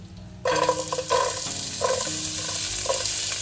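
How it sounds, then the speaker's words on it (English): Onions and spices sauteing in hot oil in a cooking pot for a vegetable kuruma: a steady close sizzle begins after a brief quiet start, with repeated scraping stirs of a spoon against the pot. "Now continue sauteing our onion."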